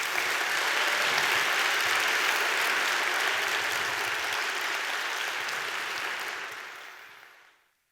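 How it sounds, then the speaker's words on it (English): A large lunch-program audience at a manufacturing summit gives speaker Mark Peters a dense, sustained round of applause, steady for about six seconds before fading away to silence. "Let's have another round of applause for Mark Peters, please."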